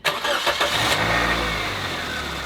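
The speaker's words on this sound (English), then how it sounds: "Then we start her up and warm it up." A used car engine cranks and catches, then settles into a steady low idle as it warms up, close and fairly loud with no talking.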